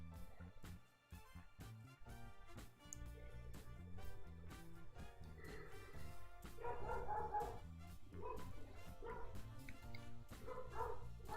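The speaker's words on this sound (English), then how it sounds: "Dog's been pretty loud, huh?" Dog barks and yips repeatedly in the background, mixed under a dense, steady bed of other sound throughout.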